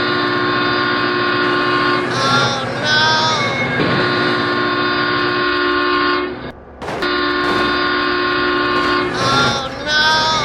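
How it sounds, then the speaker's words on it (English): Train horn blaring from a passing train in the BeamNG.Drive driving game, long sustained tonal blasts that cut out briefly near the middle, loud and close with excited voices shouting over it. "Oh my God, train!"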